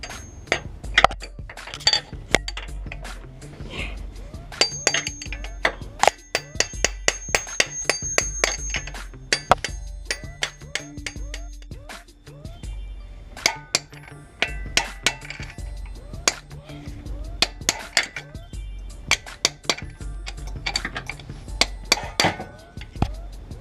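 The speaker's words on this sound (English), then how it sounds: "And you just hammer it, it's gonna pop out." Repeated sharp metallic hammer strikes ring out in irregular bursts, loud and close, knocking out the axle of a 2006–2011 Honda Civic Si, with clanking metal between blows.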